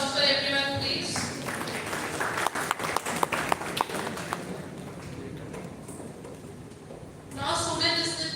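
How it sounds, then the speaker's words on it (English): An audience claps in a sustained round of applause for a team at a college global immersion program event in Delhi, with a busy crowd wash between bursts of talk at the start and end. "Big round of applause for everyone, please."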